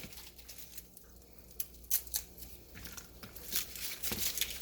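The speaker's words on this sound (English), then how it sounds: "I'm just going to peel my garlic and get all my cloves ready" Garlic cloves being peeled by hand during kitchen prep for canning hot sauce, with a run of dry crinkling, tearing skin sounds and small snaps close up, no talking.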